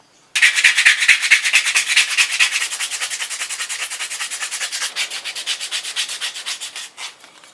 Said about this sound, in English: Now I'm just going to hand sand it.